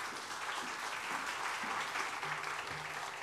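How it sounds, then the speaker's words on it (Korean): Church congregation applauding warmly to welcome a guest preacher at a revival service, steady sustained clapping from a large crowd filling the room. "우리 오실 때 큰 박수로 축복하시기 바랍니다."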